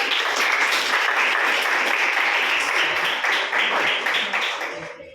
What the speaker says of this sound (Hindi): तालियां बजाओ एक बार